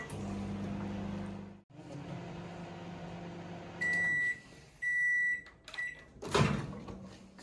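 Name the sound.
microwave oven running on power plus grill combination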